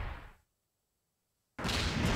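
An explosion in Pac-Man World Re-Pac: a sudden loud, broad roaring blast that cuts in after a moment of silence and stays dense and full.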